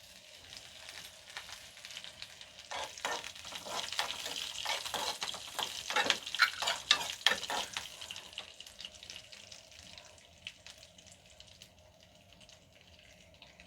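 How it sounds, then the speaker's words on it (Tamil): Mustard seeds and urad dal crackle in hot oil as curry leaves go in, a soft hissing sizzle with a burst of rapid pops in the middle that thins out toward the end. "இது கொஞ்சம் பொரிஞ்சு வரட்டும்."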